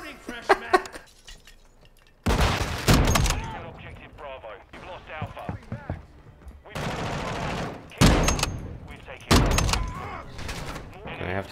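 Gunfire in the Modern Warfare 2 beta: loud bursts of automatic fire and single heavy shots come in several separate blasts with quieter gaps between them, while a player talks intermittently.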